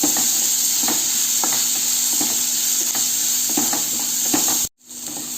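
Potatoes fry in a pan for potato fry, a loud, continuous sizzle close up, with regular scraping stirs every half second or so, cutting off abruptly near the end.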